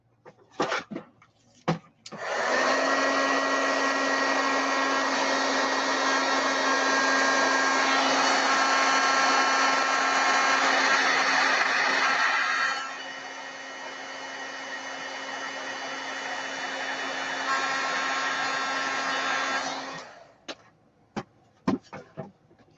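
A heat tool blows a steady, loud whirring rush for nearly twenty seconds while heating stamped embossing powder on a Christmas card, its pitch dropping a little partway through, and then it clicks off.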